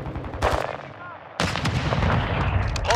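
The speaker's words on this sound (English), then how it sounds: "Hostile mortar strike incoming." Mortar strike explosions in Call of Duty Modern Warfare 2 multiplayer, two sharp heavy blasts followed by booming rumble and scattered gunfire, loud and close.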